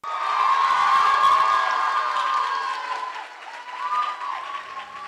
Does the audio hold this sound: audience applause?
yes